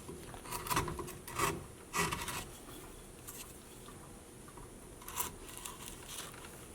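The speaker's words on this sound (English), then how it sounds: "just keep going with smaller gouges" Gouges scraping and shaving cottonwood bark in a wood carving, brief rasping strokes in a few bursts with quieter scratching between, close and fairly soft.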